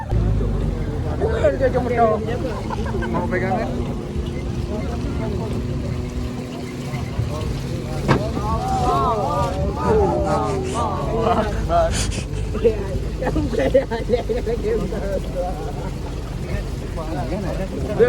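Motorboat engine droning steadily on the water near a village during a field survey, with several people talking loudly over the constant hum throughout.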